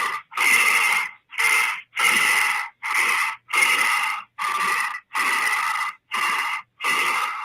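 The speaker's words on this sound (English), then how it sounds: "that's somebody breathing hard" Someone breathes hard in a played clip, about ten loud, ragged, gasping breaths in a steady rhythm, close up and separated by short silences.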